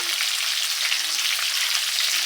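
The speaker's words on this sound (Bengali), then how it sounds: "বেগুন ভাজার তেলে আলুটা দিয়ে দিচ্ছি আলু লাল হয়ে গেছে" Steady, loud sizzle of potatoes frying in oil left over from frying eggplant, a continuous dense crackle with no voices.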